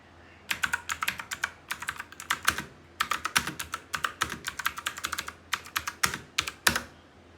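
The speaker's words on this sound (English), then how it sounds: "Here is how the keyboard sounds while typing." Rapid clacky keystrokes on an HP GK400Y gaming keyboard, typed in quick bursts with short pauses between them, close and crisp with no talking.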